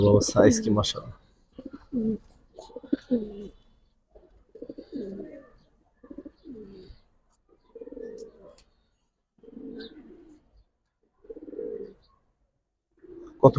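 Silver Giribaz pigeons cooing up close, a series of soft, low rhythmic coos repeating at intervals with quiet gaps between, after a brief burst of louder sound at the start.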